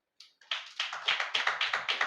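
A congregation at a Holy Communion church service claps hands in a steady rhythm, starting with a few scattered claps and settling into loud, even beats close by.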